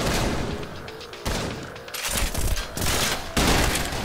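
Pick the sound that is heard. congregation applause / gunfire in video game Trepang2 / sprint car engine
gunfire in video game Trepang2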